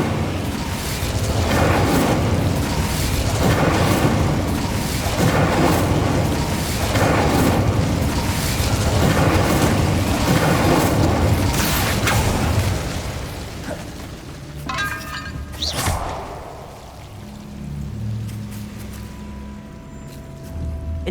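Incendio fire spells blast repeatedly in Hogwarts Legacy, a loud, dense rumble of roaring fiery bursts that pounds on for about fifteen seconds before dying away into quieter clanks and faint magical tones.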